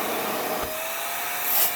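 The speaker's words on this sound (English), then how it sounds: "Definitely hear the difference there in that suction power." ECARKE cordless portable wet/dry vacuum powered by a DeWalt battery, running with a steady high-pitched motor whine and a brief pitch rise near the end.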